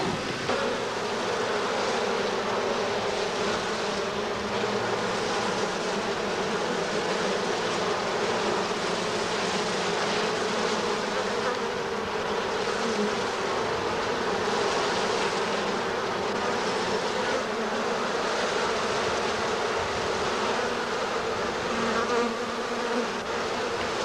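Honey bees buzz as a dense, steady drone inside a hive where they draw out wax comb foundation, the hum continuous and close with no pauses.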